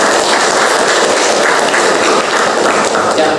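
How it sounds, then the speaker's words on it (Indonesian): A class of students claps for a classmate in a school lesson, a loud, dense, steady burst of applause filling the room throughout. "Tepuk tangan untuk Nadina."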